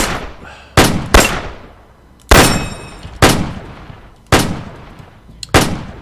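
BAR rifle fire in ArmA 3 with the Faces of War mod, six loud, heavy single shots at uneven intervals, each a sharp crack followed by a long echoing decay.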